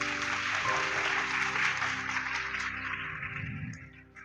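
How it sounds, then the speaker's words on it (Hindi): A church congregation breaks into sustained clapping, loud and dense at first and then gradually thinning and fading toward the end, with a little voice mixed in. "प्रभु के लिए ताली बजाइए।"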